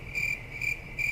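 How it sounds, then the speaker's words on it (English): Crickets chirp as a sound effect in three regular pulsing bursts, shrill and steady over a low background rumble, with no voices. "Crickets."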